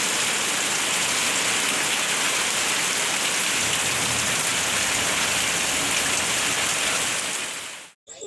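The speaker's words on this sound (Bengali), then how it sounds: "দেখো কি পরিমাণ বৃষ্টি হচ্ছে" Heavy rain pours down in a dense, unbroken roar close by, constant and loud throughout before cutting off abruptly near the end.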